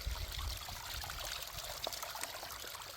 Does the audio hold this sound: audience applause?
no